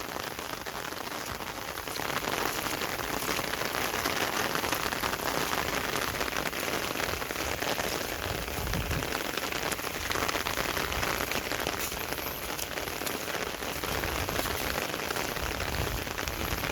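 Heavy rain pours steadily and loudly on a surface, a dense continuous hiss with scattered drop impacts, with no voices throughout.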